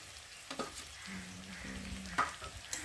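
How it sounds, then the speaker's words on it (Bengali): Spice paste of salt, turmeric, chili powder and ground ginger, cumin and garlic sizzling with potatoes in a pan, stirred with a few scraping knocks over a steady fry. "মশলাটা ভালোভাবে আলুর সাথে কষিয়ে নেব"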